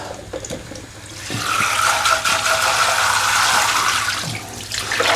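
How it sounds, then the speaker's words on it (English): Water from cooked rice is drained in a kitchen, pouring and gushing in a steady, fairly loud splash for several seconds before tapering off. "might as well drain this rice"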